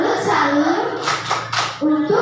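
Children in a Grade 4 classroom perform the tepuk salut clapping routine: a few sharp claps break through lively chanting and talking voices, close and fairly loud.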